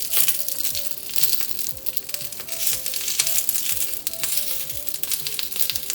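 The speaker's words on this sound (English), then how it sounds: "You see the sizzling noise, that's why we call it a sizzler." Cabbage sizzling in melted butter on a hot sizzler plate for an Indo-Chinese chicken sizzler, giving a steady crackling hiss with scattered pops and crackles, close and continuous throughout.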